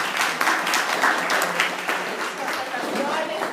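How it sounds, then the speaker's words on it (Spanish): An audience claps for Fiorella at a Spanish-language Bible talk on Jeremiah, a steady wash of applause for a few seconds. "un aplauso para Fiorella"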